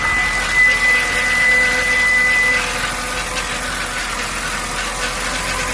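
A Hyundai car engine with a noisy CVT transmission runs with a steady, rough mechanical drone, topped by a thin high whine during the first half.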